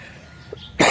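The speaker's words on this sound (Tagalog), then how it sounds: "Inuubo guys kasi inaabot ng ulan" A single sharp cough bursts out near the end after a quiet, hushed moment, fairly close and alone.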